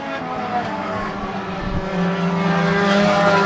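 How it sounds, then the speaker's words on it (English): A Thunder 4 mini race car, the number 19, comes around the track at a dirt race, its engine a steady loud roar that grows louder as it approaches. "Zach Audette, Mr. Excitement in the 19 car, is going to come around and pick up the checkered flag"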